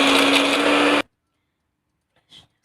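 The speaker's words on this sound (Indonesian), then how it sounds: "Sekarang di blender." A blender grinds chilies, garlic and oil with a loud, dense whirring roar for about a second, then cuts off abruptly into near silence, followed by a faint brief clatter.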